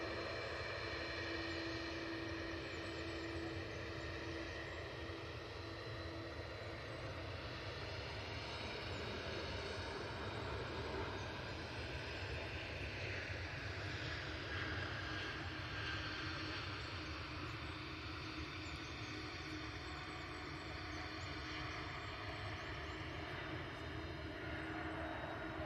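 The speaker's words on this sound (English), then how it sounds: "Air France on the rolls. It's a bit of Pratt & Whitney love for you." An Air France jet with Pratt & Whitney engines makes its takeoff roll, a faint, distant, steady engine drone with a low hum that lingers evenly throughout.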